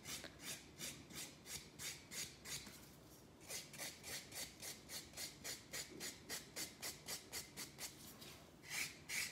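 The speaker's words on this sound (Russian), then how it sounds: "И теперь я просто легонько здесь зашлифую." A nail file lightly buffs an acrylic gel nail surface in close, quiet, steady rhythmic strokes, a soft rasping back-and-forth repeated many times without pause.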